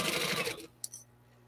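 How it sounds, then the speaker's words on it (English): A sewing machine stitches fabric pencil cases in a short, close whirring run that stops abruptly, followed by a small click and quiet hum. "the sewing machine isn't too loud"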